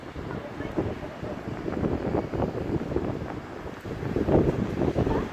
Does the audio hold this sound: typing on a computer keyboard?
no